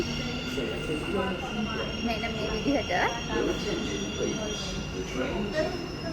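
A metro train rumbles in with a faint wheel squeal and steady hum at a station in the UAE, while a person speaks briefly nearby.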